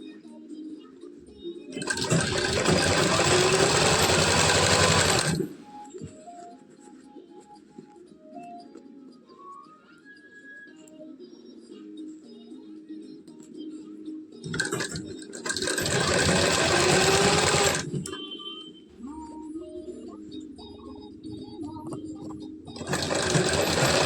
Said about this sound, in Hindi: ये देखिएगा, मैं सिलाई लगा रही हूँ यहाँ पर